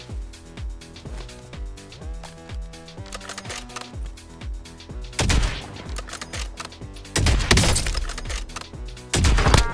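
Gunfire in Warzone, rapid bursts of shots repeating in a steady rhythm over background music, growing louder and denser with heavy volleys toward the end.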